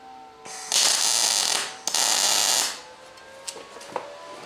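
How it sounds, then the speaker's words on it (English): Two short bursts of hissing, crackling MIG welding as tack welds fuse a steel catapult frame in a workshop, each lasting about a second, followed by quieter mechanical clicks and handling. "we'll start with just one tack, a small weld to hold it in place"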